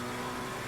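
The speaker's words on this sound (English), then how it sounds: "Great sounds coming from the McLaren engine." A mid-engine McLaren V8 twin-turbo race car in a racing video game at Silverstone, a steady loud engine drone with a constant pitch, heard briefly and continuously.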